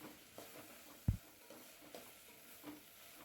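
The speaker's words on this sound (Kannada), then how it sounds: "ಟೊಮೆಟೊನೂ ಸೇಮ್ ಸಾಫ್ಟ್ ಆಗೋವರೆಗೂ ಫ್ರೈ ಮಾಡ್ಕೊಬೇಕು." Tomato and onion fry quietly in a pan: a faint, soft sizzle is broken by light stirring taps and one sharper scrape of the spoon against the pan.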